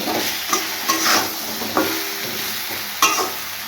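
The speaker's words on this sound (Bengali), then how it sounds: "বেগুনগুলো দিয়ে দেবো দিয়ে দেবো লবণ আর দিয়ে দেবো হলুদ একটু ভেজে নেব" Eggplant pieces fry in a pan with salt and turmeric, a continuous hissing sizzle broken by a few sharp clacks of a spoon stirring against the pan.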